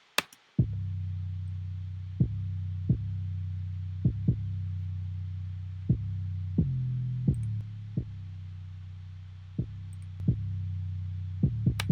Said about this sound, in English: I'm just using this to kind of distort the bass a little bit.